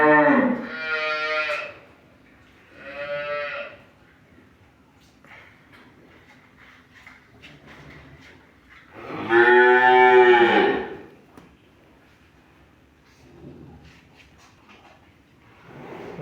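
Dairy cows in a farm shed moo repeatedly and loudly at close range, several separate drawn-out calls with quiet gaps between them and a fainter call near the end.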